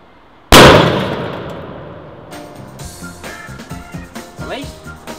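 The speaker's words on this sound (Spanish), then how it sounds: "Explotar un petardo en verano es lo máximo." A firecracker explodes inside a television: a sudden loud bang that rings out and slowly decays, followed by clattering and scattered rattling noises and a voice.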